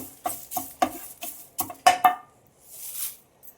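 Curry leaves roasting in a pan for jeera and pepper rasam powder, stirred with a utensil in a short run of scraping, clinking strokes followed by a faint sizzling hiss, close and without any talk.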